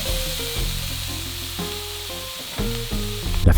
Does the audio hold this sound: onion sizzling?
yes